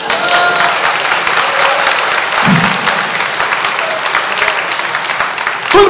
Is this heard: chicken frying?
no